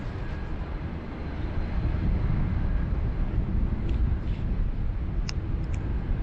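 A jet airliner departs low from Sydney Airport, its broadband engine roar steady and loud throughout with wind-like rumble, no voices.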